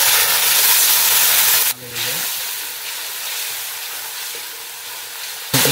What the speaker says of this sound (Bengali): এই মশলাটা কষানোর জন্য আমরা একটু গরম জল দিয়ে দেবো।